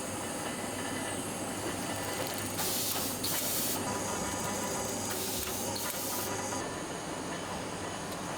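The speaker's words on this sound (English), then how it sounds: "then it's fed into a shrink wrapping machine" A shrink wrapping machine seals packaged Beelink mini PCs in a factory. Continuous mechanical whirring and rumbling run under a louder rushing hiss that swells for a few seconds midway, with no talking.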